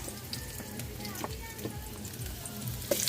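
Onions sizzling in a hot frying pan in a simple home kitchen, a steady crackling hiss with small pops throughout, close and moderately loud, with a sharper burst near the end.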